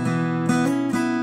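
A few quick guitar notes played as hammer-ons sound in succession, each new pitch starting without a fresh pluck, smooth and close.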